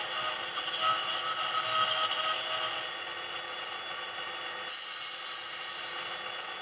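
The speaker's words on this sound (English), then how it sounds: "Bit of flange squeal." A train's wheel flanges squeal against the rail in a high, piercing screech that comes in suddenly and holds for about a second and a half over steady mechanical hiss, then fades out. No one speaks.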